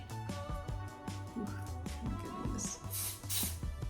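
Two short bursts of aerosol hair spray hiss near the end, over soft music playing throughout.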